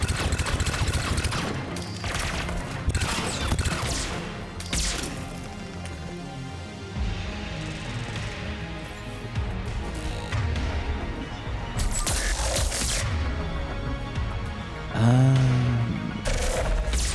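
Rapid automatic gunfire in Mass Effect 3 crackles in dense bursts, with louder volleys and impacts scattered through a busy combat mix, fairly close and with no talking.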